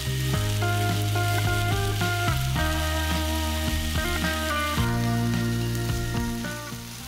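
Pork sizzles in a pan as it browns for a pork and kimchi stir fry, a constant bright crackle running under loud melodic background music.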